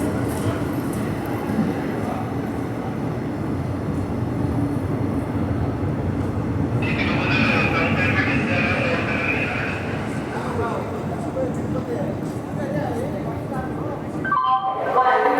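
The Vasco da Gama Tirupati Express at Gooty Junction: a steady rail rumble of the moving train, with a brief hiss in the middle and a voice speaking over it.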